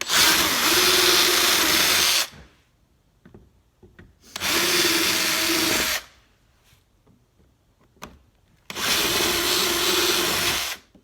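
A power drill with a 5/16-inch bit whirs loudly through material in three long bursts, separated by quiet pauses with faint handling noises.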